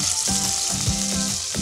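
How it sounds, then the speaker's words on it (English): Venison sizzles and fries loudly in a hot pan with olive oil, a close continuous crackle with a few stirring scrapes. "now that we got our pan good and hot, let's go ahead and get our meat going"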